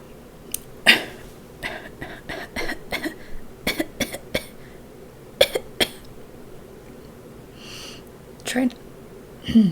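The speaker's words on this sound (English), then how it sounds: "I have to cough." Several sharp, loud coughs in bursts, spaced irregularly with short pauses between them, close to the listener.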